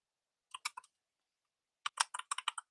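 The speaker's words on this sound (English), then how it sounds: "start typing query" Someone types a query on a computer keyboard during a software development session: a short burst of about four keystrokes, a pause, then a quicker run of about nine crisp clicks, close and alone.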